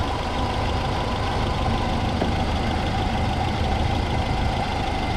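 A Land Rover Series 2A engine idles at about 600-700 RPM after a dynamo-to-alternator conversion, giving a steady, close mechanical rumble with a faint knocking texture that runs without a break and with no talk.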